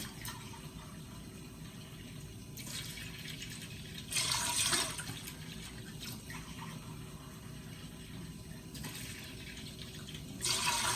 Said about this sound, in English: I'm going to be putting in 4 cups of water into the stock pot.